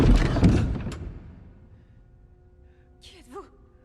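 A door moving in a horror film gives a loud, broad creaking scrape at the start that fades out over about a second. Quiet room tone follows, then a brief voice calls out near the end.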